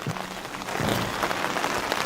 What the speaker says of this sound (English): still raining, windy